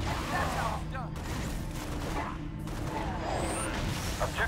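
Continuous gunfire in the video game Halo Spartan Assault, rapid bursts of shots and explosive crashes layered over a dense battle din, with a voice talking over the action.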